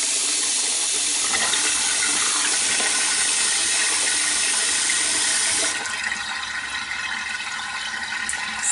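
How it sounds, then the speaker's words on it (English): Hot water running from a kitchen tap into a vessel while making Manchego cheese from raw cow's milk, a loud, steady rushing gush that drops slightly in level and changes tone partway through, with no speech. "I'm just going to put some hot water in there because I want it to be 30."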